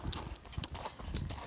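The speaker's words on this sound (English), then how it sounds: "riding one of my horses" A ridden horse named Smoke walks outdoors in the afternoon, its hooves clip-clopping in a steady, even rhythm of close, clear beats with no talk over them.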